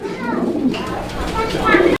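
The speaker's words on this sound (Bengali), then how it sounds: "এখানে একটা সিঙ্গেল কবুতর রয়েছে সিঙ্গেল একটা ড্রাগন হুমার পিজিয়ন" A single Dragon Homer pigeon coos close by in a couple of throaty, rolling phrases while someone talks over it.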